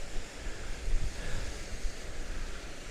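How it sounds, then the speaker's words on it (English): Rushing water from a waterfall mixed with cold wind buffeting the microphone outdoors, a steady broadband roar with low gusty rumbles. "I'm up to that top waterfall"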